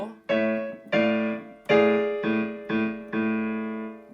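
A piano plays chords from the final section of Für Elise, six separate struck chords in a slow, even pulse, each ringing and fading before the next one.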